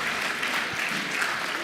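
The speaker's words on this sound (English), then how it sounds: "Please, may we give him another round of applause." Audience applause at a book presentation and graduation lecture, steady dense clapping throughout, loud and close, with no voices standing out.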